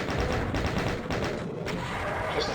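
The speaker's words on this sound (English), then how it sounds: "Maybe have them eat some chain gun bullets." A chain gun in DOOM hammers away at revenants on a ledge, firing in a steady rapid stream of loud, close shots over dense game noise.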